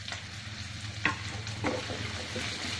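Garlic cloves and green chili frying in a pan for cauliflower cream soup, a steady low sizzle with a couple of sharper crackling bursts as the pieces are stirred, close and moderately quiet.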